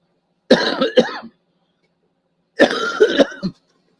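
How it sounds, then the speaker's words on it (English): A person coughs in two short, close bursts separated by a pause of about a second, each a rough cluster of hacks, with silence around them. "I still cough up stuff once in a while."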